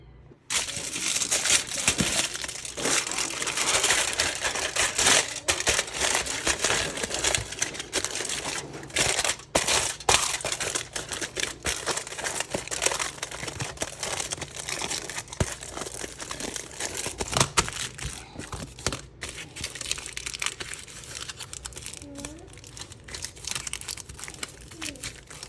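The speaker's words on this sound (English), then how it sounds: "we're going to take our piece and wrap the whole thing in foil." Aluminium foil crinkles and crumples continuously at close range as it is wrapped around a wooden circle for a craft tumbler, with sharp irregular crackles throughout and no speech.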